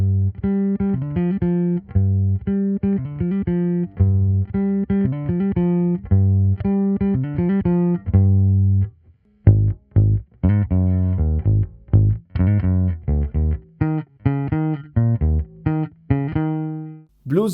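Bass line from a song, played as a run of plucked electric bass notes with a bouncing rhythm, loud and clear, with a brief pause midway before the line resumes.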